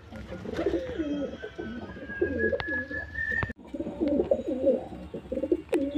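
Repeated deep, burbling coos come from a male white Jiriya pigeon held in hand, close and steady, with a brief pause before the rolling calls resume.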